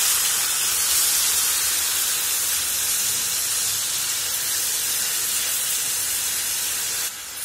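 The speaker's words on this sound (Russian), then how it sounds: "Вливаем соевый соус. У меня темный. И быстро все обжариваем." Onion and seaweed frying in a hot pan with dark soy sauce, a loud, dense, steady sizzle and hiss that fills the whole stretch close up, cutting off abruptly at the very end.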